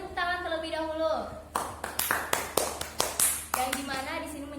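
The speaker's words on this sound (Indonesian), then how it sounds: "Beri tepuk tangan terlebih dahulu." A classroom of children clap their hands in a short burst of applause, sharp irregular claps landing between stretches of an adult voice speaking before and after.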